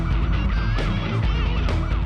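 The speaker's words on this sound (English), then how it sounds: "Sirens blaring, the cop tries to overtake" A police car siren wails loudly and steadily over heavy traffic and engine rumble on narrow New Hampshire roads, its pitch sweeping up and down without pause.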